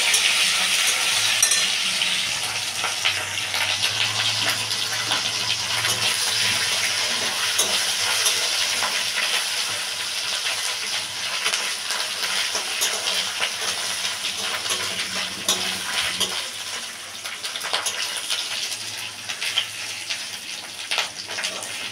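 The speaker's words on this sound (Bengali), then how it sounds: "এভাবে পেঁয়াজটাকে ভাজতে থাকবো যতক্ষণ না বাদামি কালার হয়" Onions frying in a pan until brown, the base for a lentil and eggplant dal, giving a steady close sizzling hiss with faint stirring scrapes throughout, with no speech.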